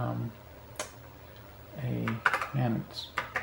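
Keys clicking on a TI-99/4A computer keyboard, a few scattered close taps mixed in with a man's speech.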